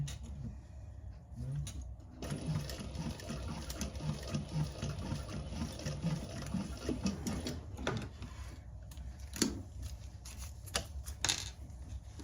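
A sewing machine stitches steadily with its bobbin running low, giving a continuous close mechanical whir with rapid rhythmic ticking and a few louder clicks near the end, with no voices.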